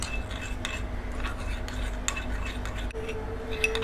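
A spoon stirs a paste of honey and yogurt in a small bowl, giving soft repeated scraping and light clinks against the dish, close and fairly quiet with no talk.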